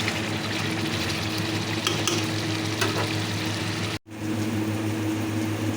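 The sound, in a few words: fish curry spice paste frying and being stirred in a pan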